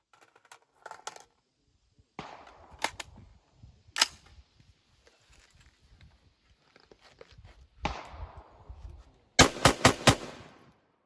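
A KA-15 rifle is test fired with 62 grain rounds outdoors, producing several sharp gunshot bursts spread across the stretch, some single and others in quick rapid clusters, with quiet gaps and faint handling noise between them.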